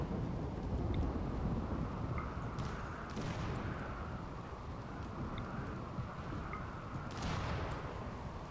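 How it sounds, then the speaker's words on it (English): Steady rain with low rumbling thunder in the colony-building game RimWorld, a dense continuous wash filling the whole stretch with a few louder swells. "Oh, it's raining?"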